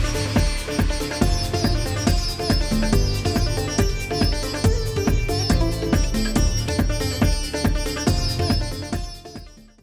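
An upbeat electronic dance track fused with Carnatic music, with a steady, punchy four-on-the-floor beat and layered synths, fading out at the end.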